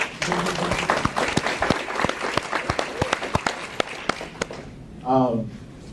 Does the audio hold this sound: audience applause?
yes